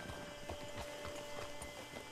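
Horse hooves in the video game Red Dead Redemption 2 Online, a steady clip-clop of hoofbeats at a walking pace over continuous background game sound.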